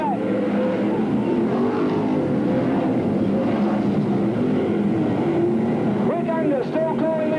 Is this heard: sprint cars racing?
yes